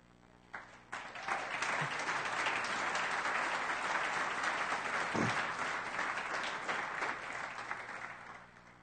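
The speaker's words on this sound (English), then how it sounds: "Can we have a round of applause for them?" Audience applause during a DrupalCon Latin America 2015 keynote in Bogota: a large crowd breaks into sustained, dense clapping that swells within a second, holds steady for several seconds, then gradually tapers off.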